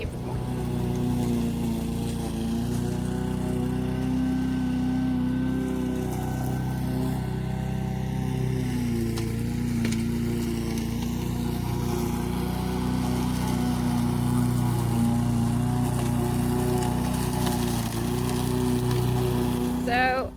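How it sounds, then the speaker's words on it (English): A lawn mower mows an overgrown Kentucky garden, its engine droning steadily and fairly loud for the whole stretch with a constant low hum and no breaks. "I took a small video just a minute ago, as you saw, of Josh mowing down our garden"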